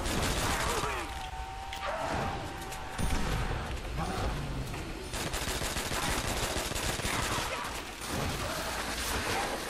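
Automatic gunfire rattles almost continuously in a zombies video game, dense bursts of shots with crashes and mechanical clatter throughout, fairly loud and steady.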